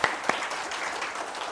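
An audience applauding at a parenting talk concert in Seoul, a brief dense wash of clapping with a couple of sharper claps at the start, steady and moderately loud with no voices.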